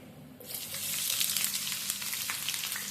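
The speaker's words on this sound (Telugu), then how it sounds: "Oil heat ఎక్కిందని. అలాగే ఉల్లిపాయ పచ్చిమిర్చి వేసుకుందామండి." Onion and green chillies hit hot oil for a spinach and corn biryani, a sudden loud sizzle bursting in after a quiet start and then holding as a steady crackling fry.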